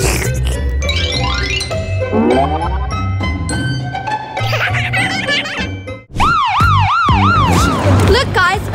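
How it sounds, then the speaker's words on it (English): A New York Police Department car's siren in a busy New York City street, loud and close, shifting from rapid rising-falling sweeps to a slower wailing yelp over traffic rumble. "Look, guys, a real New York police car."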